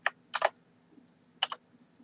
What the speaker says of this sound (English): we'll start typing